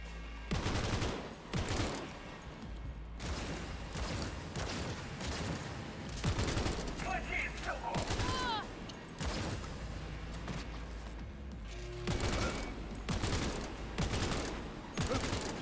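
Bursts of Cyberpunk 2077 gunfire crack out in loud, rapid volleys, with repeated sharp shots and heavy blasts spread across the whole stretch, close and intense.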